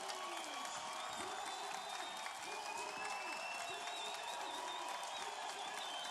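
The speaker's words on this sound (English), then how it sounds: "The crowd go wild" A crowd at an FIVB beach volleyball world championship match in 2016 cheers and applauds steadily, a broad wash of clapping and voices heard from a distance.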